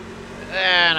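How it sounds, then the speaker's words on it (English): Engine of a NASCAR Class C stock car at a Kentucky race start in a racing video game, a steady low drone that swells into a louder rising whine about halfway through, heard alone without talking. "Just try to time this as best as I can and roll onto the throttle instead of spinning the tires."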